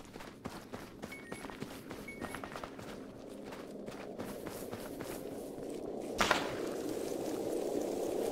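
A soldier character runs across terrain in ARMA 3, a steady stream of quick footfalls on the ground with gear rattling, moderately near, and a louder rushing noise swells in the last couple of seconds.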